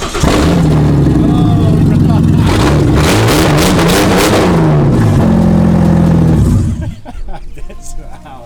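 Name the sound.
Ford Falcon ute engine running and revving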